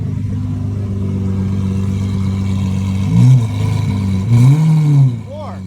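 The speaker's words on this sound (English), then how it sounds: "Give it a little rev." Engine of a police car revved in neutral, a steady idle hum rising into two short, loud revs near the end, close by.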